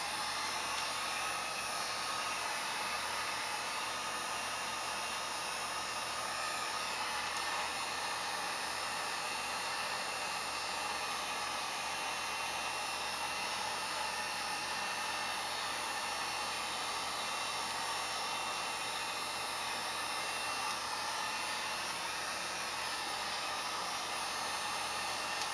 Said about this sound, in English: I'll give it a little heat on this and dry it up real quick.